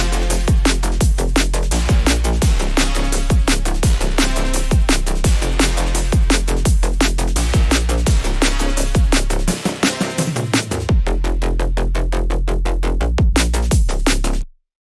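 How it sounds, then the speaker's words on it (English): Fast dancefloor drum and bass groove: punchy kicks and busy hi-hats over deep, pumping sub-bass, briefly dropping out near the end before stopping abruptly. "when you combine the basses and the drums, it sounds like this"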